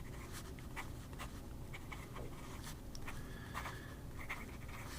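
Broad-nibbed Rhodia Script fountain pen scratching across paper in short, repeated strokes, close up and faint, with no talking.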